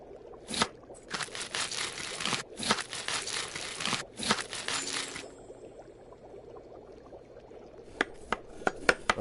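Zucchini and carrots are sliced in the Chef Life cooking game, with close, crisp bursts of rapid chopping, a quieter pause, then a few sharp knife taps at the end.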